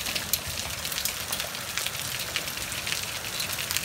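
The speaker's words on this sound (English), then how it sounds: "Hail's still falling." Hail falls steadily at night during a hailstorm, a dense hiss of countless small impacts peppering surfaces nearby with a few sharper ticks, with no voices.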